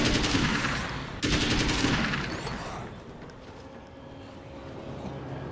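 Rapid automatic assault rifle fire from an action game set in a nightmare version of small-town America rattles in two dense bursts. A sharp break separates them, and the shots fade into quieter ambience with a faint high whistle.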